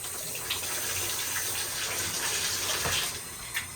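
Water streams from a shower head into an old tub in a hotel bathroom, a steady hissing spray with faint clinks and drips, close and continuous.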